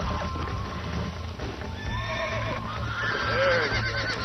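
A horse in the Red Dead Redemption video game whinnies loudly and close, with a rising and falling neigh, over a steady clip-clop of hooves and game ambience, with no talk.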